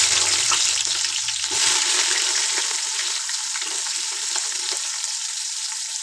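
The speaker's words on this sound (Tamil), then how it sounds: "அரிஞ்சு வச்ச வெங்காயத்தை நல்லா போட்டு பொன்னேரமாக வணக்கிடுங்க" Chopped onions frying in a pan for mutton nalli biryani, a steady broad sizzle with soft stirring scrapes running continuously and close, loud throughout with no voices.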